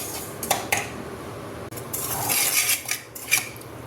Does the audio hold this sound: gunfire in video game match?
no